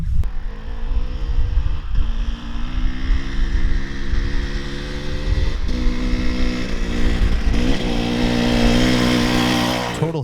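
A dirt bike engine drones steadily and loudly while riding off-road through the Idaho hills, its pitch rising and falling as the rider shifts and climbs, with wind noise building near the end.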